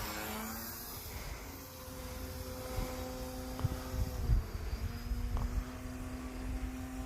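Timber X radio-controlled aerobatic plane flying during a maiden flight, its motor a steady drone overhead that rises and falls slightly, with faint background noise and no talking.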